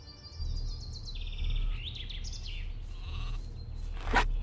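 Sheep bleat in the fantasy role-playing game Gothic 2, several wavering calls at moderate distance over a steady low ambient hum, ending with a sharper sound and no one talking.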